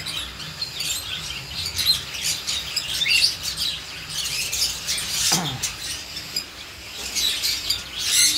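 Many cockatiels chirp and squawk at once on a bird farm, a busy, continuous flock chatter that rises and falls throughout.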